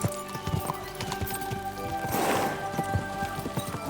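Horses gallop in Kingdom Come: Deliverance II, steady rapid hoofbeats clopping close by with a brief whinny midway, over a faint low background rumble.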